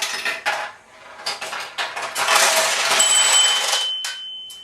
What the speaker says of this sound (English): we got one to go into this tulip here, and we heard the bell, we saw the light flash, and got the payout